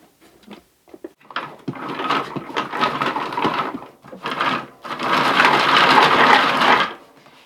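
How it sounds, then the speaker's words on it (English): A small hand-cranked food processor chops sliced ginger root, giving close, loud bursts of rough grinding and rattling that swell and pause as the handle is turned. "we are going to try making it smaller in our little hand-cranked food processor here"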